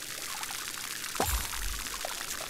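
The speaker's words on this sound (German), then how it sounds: "So, Gießkanne." Watering can pouring water in the video game Grow: Song of the Evertree, a short soft splash that swells briefly over a quiet background.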